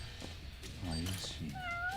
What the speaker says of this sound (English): Oh look, a cat.